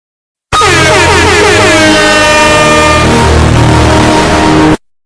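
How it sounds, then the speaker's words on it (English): A single loud air horn blast blares steadily for about four seconds, then cuts off abruptly. "I am going to use this air horn to shock them up."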